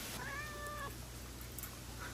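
A cat gives a single clear, drawn-out meow in a home kitchen during cooking, fairly close, followed by a low steady hum.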